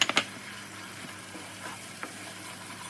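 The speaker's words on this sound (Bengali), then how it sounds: "মশলাটা দিয়ে খুব ভালোভাবে কষাতে থাকবো যতক্ষণ না তেল ভেসে ওঠে" Spices and yogurt frying in oil in a pan as chicken tehari is cooked, producing a faint, low sizzle. A few sharp clinks of stirring stand out at the start, followed by occasional soft scrapes.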